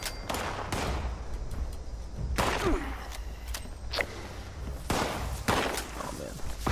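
Shotgun fire in the Fallout 76 video game, several sharp blasts spaced irregularly over a steady game ambience, with scattered footsteps and thuds between shots.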